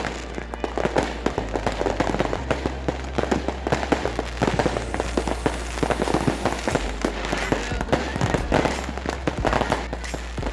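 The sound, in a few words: New Year fireworks on Patong beach, Thailand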